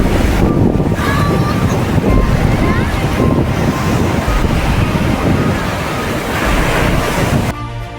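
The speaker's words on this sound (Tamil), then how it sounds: "பாருங்கள் காற்று எப்படி அடிக்குது பாருங்கள்." Strong wind buffets a small boat heading out to sea off Marina Beach, with loud surf and waves slapping the hull in a steady roar, the wind rumbling across the microphone throughout.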